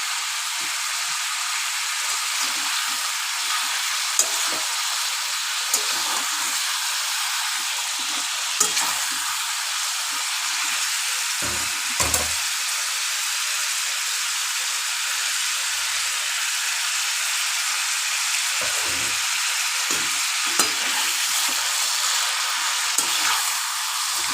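Chicken pieces for a chicken curry sizzle steadily in a hot pan, a dense continuous hiss punctuated by occasional clinks and stirring scrapes, with no talking.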